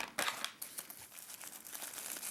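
Crinkling of a foil seal pouch as the interior package of a 1992 cold weather ration, Chicken A La King, is pulled out, with close, irregular rustles and crackles and a louder tear-like burst near the start.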